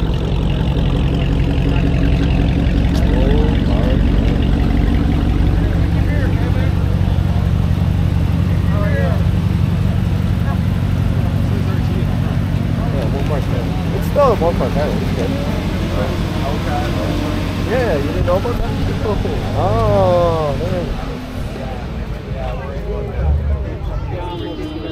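A supercharged Dodge Challenger R/T with a steady, deep engine rumble held close and loud throughout, easing slightly near the end, with people talking over it.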